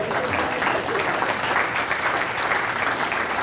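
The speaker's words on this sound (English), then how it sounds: "Applause anytime is fine." Audience clapping continuously for a juggler tossing loaded rat traps, a thick, even wash of applause with no break.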